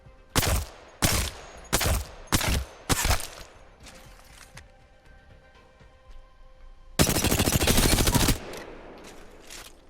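Alternator submachine gun firing in Apex Legends: five short, loud bursts in a steady rhythm, then a pause and one longer sustained burst of rapid shots up close.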